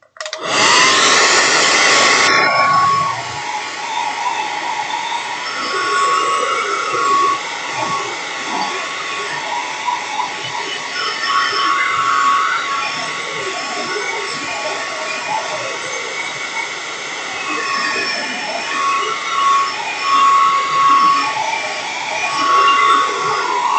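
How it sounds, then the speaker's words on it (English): A blow dryer roars loudly at close range, blasting steadily for the whole stretch after a brief louder start. "You're going to blast it with the blow dryer so it's like super dry."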